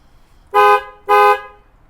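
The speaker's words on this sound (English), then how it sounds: "I love that sound way better than the stock horns" Two loud, evenly spaced blasts from an upgraded premium plug-and-play horn on a Toyota Land Cruiser, each lasting about a third of a second, sounding close and clear with nothing else around them.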